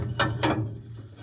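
A big wrench is fitted onto a pipe on a New Holland CR9070 combine, giving two quick metallic scraping clanks followed by a faint rattle, close and without talk.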